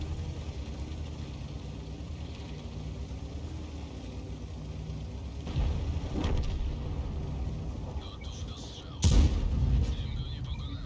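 A tank gun booms twice in a World of Tanks battle with an Object 252U Defender, sharp loud blasts around the sixth and ninth seconds over a steady engine rumble.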